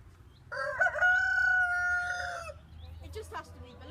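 A young rooster named Hercules lets out a single long, clear crow close by, rising and holding for about two seconds, followed by faint clucks and softer calls from nearby chickens.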